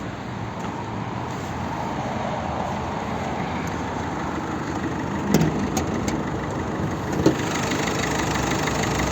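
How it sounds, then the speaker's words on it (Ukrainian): A 2010 Peugeot 3008 1.6 HDi diesel engine idles steadily nearby with a low, even clatter, a couple of brief clicks standing out partway through. "Подивимось, що в нас під капотом, як працює двигун."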